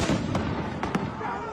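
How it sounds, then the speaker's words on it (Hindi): Strikes on Bahrain during an Iranian missile attack on a US base, heard as a few sharp booms and pops over a continuous noisy rumble, with faint voices underneath. "ईरान ने सऊदी अरब और कुवैत के साथ साथ बहरीन पर भी जबरदस्त बारूदी प्रहार किया।"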